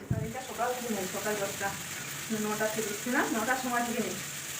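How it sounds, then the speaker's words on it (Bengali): Chicken pieces dropped into hot oil set off a sizzling fry that runs continuously, with a person talking over it for most of the time. "এখন আমি চিকেনগুলো বসাবো"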